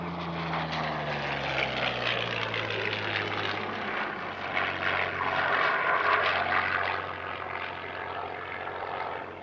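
A Yak-11 propeller aircraft flies at the Air Legend airshow at Paris-Villaroche, a loud continuous engine drone with a falling propeller tone as it passes, swelling near the middle before easing off.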